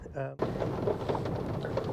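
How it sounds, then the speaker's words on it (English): Heavy rain drums on the roof of a car parked at a fishing lake, a close and dense steady patter that continues under a voice, which briefly comes through at the start. "That's the noise of heavy rain on the roof of the car."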